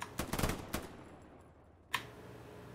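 Honor guard rifle volley at a Memorial Day event in the video game Hell Let Loose, with a ragged cluster of overlapping shots, then quiet and one more sharp crack.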